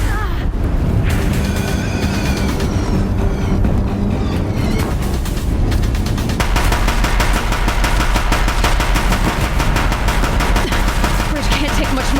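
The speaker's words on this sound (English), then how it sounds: "Deathbringers keep firing," Deathbringer machines in Horizon Zero Dawn firing heavy guns at a bridge: dense, loud, continuous rapid-fire bursts with booming impacts, growing even denser in the second half.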